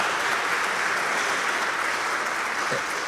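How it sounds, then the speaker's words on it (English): A mosque or lecture-hall audience gives a fresh round of applause for Brother Samad Muhammad, a loud, even roar of many hands clapping continuously from start to finish. "Can we give Brother Samad Muhammad another round of applause?"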